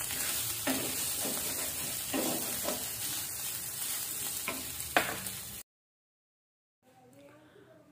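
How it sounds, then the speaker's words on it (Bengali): Boiled chicken pieces frying in a pan of mixed vegetables for a wedding-style shahi vegetable dish, with a steady sizzle and several scraping stirs over about five seconds, then a brief silence and faint sizzling again. "এখন দিয়ে দিলাম সিদ্ধ করে রাখা সেই চিকেন।"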